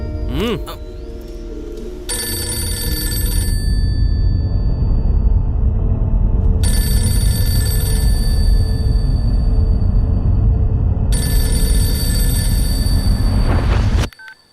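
An electronic phone ringtone repeats in long bursts with gaps between, sounding over a steady low rumble of background noise.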